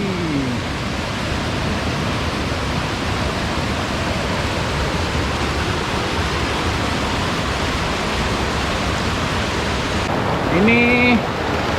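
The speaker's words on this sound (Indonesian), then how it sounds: "Ini sungai yang ketiga kita lewat." River rapids rush steadily on a mountain trail, a loud, dense wash of water that continues unbroken throughout, with a voice speaking briefly at the start and again near the end.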